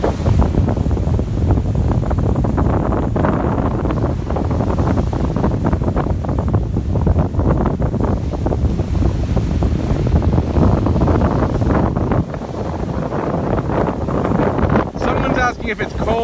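Wind buffets a microphone at Town Neck Beach in Sandwich, a steady loud rushing roar with gusty rumble that runs through the whole stretch, with no talk over it.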